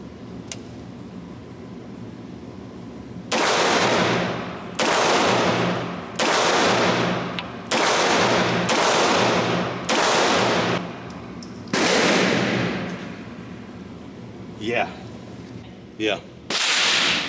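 A Springfield Kuna carbine fires about eight loud, sharp shots at a steady, unhurried pace, each cracking and echoing outdoors, followed by a few fainter distant reports.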